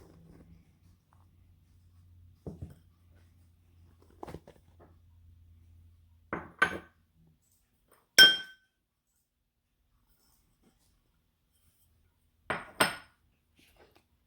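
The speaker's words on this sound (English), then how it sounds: "Use a spoon to mix the flour and baking soda." A spoon mixing flour and baking soda in a bowl, heard as a handful of sparse clinks and scrapes against the bowl separated by quiet pauses, faint and close.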